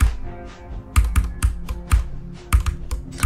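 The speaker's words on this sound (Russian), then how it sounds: "Клики мне очень нравятся, приятные." Rapid, crisp mouse or key clicks while playing Geometry Dash, close and loud, in irregular bursts of sharp taps with short pauses between them and no voices.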